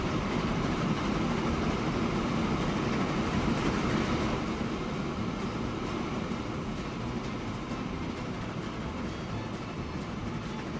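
Train running in the Transport Fever 2 video game, a steady broadband rumble with faint rhythmic rail clatter, continuous and fairly loud throughout with no talking.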